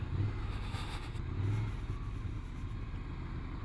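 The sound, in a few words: Ducati Scrambler Desert Sled motorcycle riding in first gear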